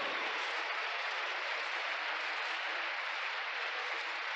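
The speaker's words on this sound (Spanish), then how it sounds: "Un aplauso si está entendible esto" Congregation applauding during a Spanish-language church sermon, a steady broadband wash of clapping that fills the whole stretch at an even, moderate level with no talk over it.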